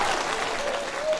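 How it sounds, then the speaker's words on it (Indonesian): Short burst of audience clapping at a Maulid Nabi religious lecture gathering, dense and even, with a faint tone lingering underneath. "Tepuk tangan dulu dong."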